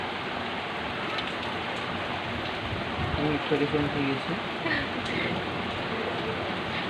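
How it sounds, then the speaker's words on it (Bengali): Steady rain pours outside a window in an unbroken wash of noise, with a faint low rumble briefly rising midway; no thunderclap stands out clearly. "এখন কিন্তু বাতাসটা হালকা আছে, বৃষ্টি পড়ছে"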